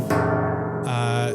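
Metal household objects sampled and chopped, ringing with bright metallic tones: a clear struck clink followed by a sustained resonant ring, then a brighter, higher metallic hit, close and loud with no talking.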